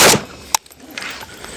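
A Riley Defense RAK-47 rifle fires outdoors, with one loud gunshot at the start and a second sharp crack shortly after, followed by trailing echo.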